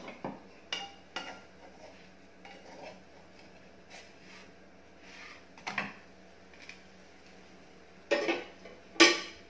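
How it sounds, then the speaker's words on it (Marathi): Millet bhakri flatbread with sesame seeds being flipped on a pan: scattered light clinks and scrapes of utensil on metal, quiet at first, then a couple of sharper, louder knocks near the end. "भाकरी आपण आता पलटून घेऊया"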